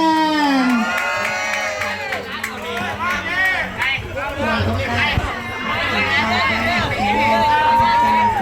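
A pageant audience at a college Miss Quest event cheers and shouts loudly for teachers, a roaring crowd with whoops and children's shouts rising and falling over chatter, while a voice on the PA speaks through it.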